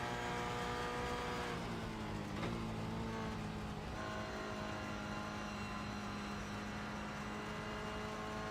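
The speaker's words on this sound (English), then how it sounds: "Let's hear him towards Eau Rouge then and see what that throttle input is like up Eau Rouge." Race car engine in iRacing at Spa, climbing Eau Rouge in heavy rain: a continuous, fairly distant engine drone whose pitch shifts as the throttle changes, with no talking over it.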